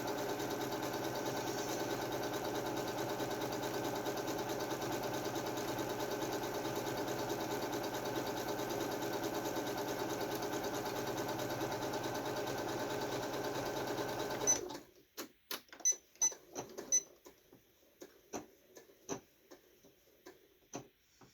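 A sewing machine fitted with a knee lift stitches thread steadily for about fifteen seconds. Its even mechanical hum then stops, leaving only sparse ticks and short handling clicks.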